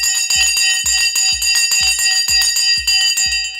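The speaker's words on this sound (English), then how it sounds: "The bell has now gone." A stock market opening bell rings loud and close in rapid repeated strikes, a steady metallic clang pulsing about twice a second over a continuous shimmering ring, with no voices.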